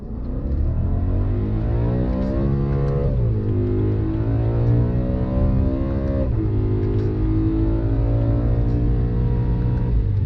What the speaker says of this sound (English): Let's do an acceleration run here.